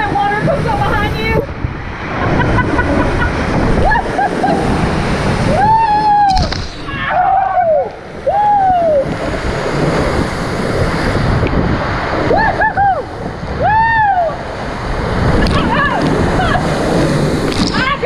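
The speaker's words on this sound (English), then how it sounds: "that water comes up behind you." Rushing, splashing water at a water park ride at Water Country USA in Williamsburg, Virginia, a steady near wash of spray and surf-like noise with excited voices and shouts over it throughout.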